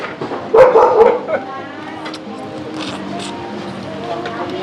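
A small dog barks and yips in a short burst, close and fairly loud, then trails off while someone talks and ambient restaurant noise continues.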